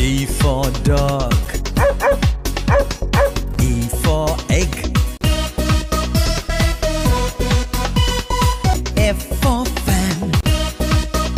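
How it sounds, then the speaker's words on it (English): Dog barks and yips ring out over a busy musical backing, loud and close, repeating throughout. "D for dog."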